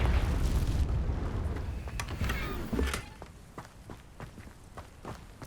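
A Confringo blasting spell explodes in Hogwarts Legacy, a loud low boom rumbling for a few seconds before fading, followed by quieter footsteps and scattered debris ticks.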